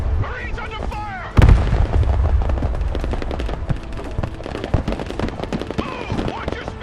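Combat in the video game Broken Arrow: a heavy boom opens a stretch of rapid gunfire and blasts, with bursts and single shots crackling continuously while shouted radio-style voice lines play over the fighting.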